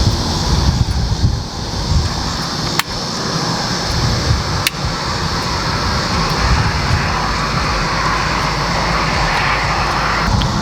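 Strong outdoor wind roars steadily and loudly at a campsite where a fire is being started in a Solo Stove Bonfire, with broad gusty rumble filling the whole stretch and two sharp brief knocks partway through.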